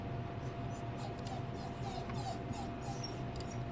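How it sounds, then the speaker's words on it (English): A pet dog whimpers softly and steadily indoors, wanting to go outside while people shovel snow nearby; faint high whines come and go over a constant low background hum. "My dog hears people outside shoveling, and he wants to go outside."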